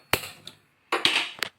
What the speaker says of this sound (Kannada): ಈಗ ಗ್ಯಾಸ್ ಹಚ್ಕೋತೀನಿ.